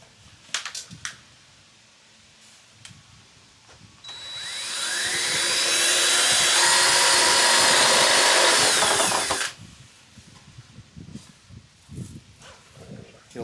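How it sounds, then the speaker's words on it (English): A power drill with a step bit bores a hole in a Harley Road Glide fairing. A loud, steady whining grind runs for about five seconds, with quieter handling noises before and after. "Just make sure you don't drill into anything behind it."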